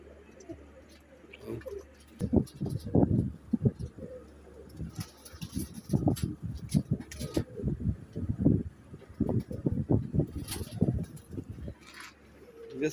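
Soft, repeated Lal Pari pigeon coos in a steady, close-up rhythm, with occasional higher chirps and rustling in the background.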